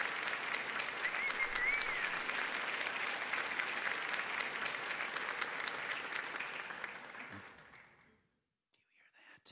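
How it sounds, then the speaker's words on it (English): A small crowd applauds at a Christmas gathering, with dense, steady clapping and a few murmuring voices, fading out near the end before quiet. "I think we owe her a round of applause for all of her hard work"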